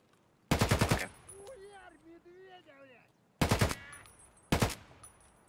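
Rapid bursts of automatic gunfire with M62 tracer rounds in the shooter game Escape from Tarkov, one long volley followed by two shorter bursts, loud and close, with game sounds and chatter faintly between them.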